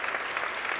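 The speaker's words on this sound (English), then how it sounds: "Now Jada Donaldson getting a nice round of applause as she exits with 47 seconds left" A crowd in a high school gym applauds a girls' basketball player as she leaves a sectional final game, a brief, steady burst of clapping at moderate volume with no talk over it.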